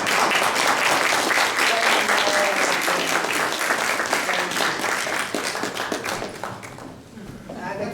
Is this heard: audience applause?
yes